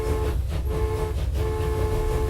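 Train in the Transport Fever railway management game, a steady loud rumbling drone with sustained horn-like tones throughout and no talk over it.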